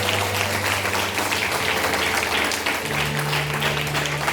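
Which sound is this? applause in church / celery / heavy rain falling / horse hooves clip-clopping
applause in church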